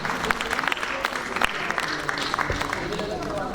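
An audience at a literary award ceremony claps steadily throughout, a sustained crowd applause with no break.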